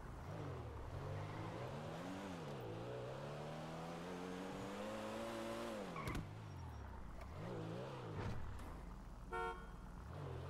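A car in GTA V, in a roleplay session, is steered into a parking spot. The engine whines steadily and its pitch rises and falls as it revs and slows, and a short horn-like toot comes near the end.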